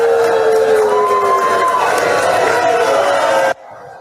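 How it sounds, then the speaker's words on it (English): A crowd of protesters at a special event in Plattsburgh, New York, jeers Congresswoman Elise Stefanik with loud, sustained booing and shouting that cuts off abruptly near the end. "Protesters booed her."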